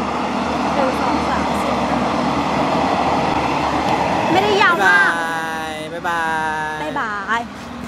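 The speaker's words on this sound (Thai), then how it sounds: "เป็นรถไฟที่มาจากเชียงใหม่นะคะ" A passenger train from Chiang Mai rumbles past close by in Lamphun, Thailand, with clattering wheels and high metallic squeals toward the end, while a person talks over the noise.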